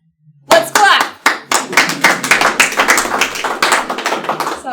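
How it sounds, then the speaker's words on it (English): An audience at a safety talk breaks into clapping after a short pause, a sharp onset of close, individually distinct claps that settles into a lively, uneven patter. "Let's clap!"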